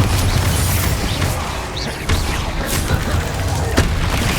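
Bombarda explosion spell in the game Hogwarts Legacy, a loud, heavy booming blast amid a dense rumbling barrage of magical combat, with crackling impacts continuing throughout.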